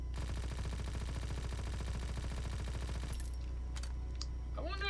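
Rapid submachine gun fire from Call of Duty WW2, a steady fast rattle of loud bursts for about three seconds, then a pause with a few scattered clicks and a brief voice.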